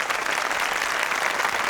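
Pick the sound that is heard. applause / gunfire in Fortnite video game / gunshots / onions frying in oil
applause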